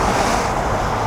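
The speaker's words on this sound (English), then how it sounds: "it's a bit windy today" Steady, roaring wind buffets a drone's microphone high above the M1 at Watford Gap Services, a dense broadband rush with no breaks and no voices.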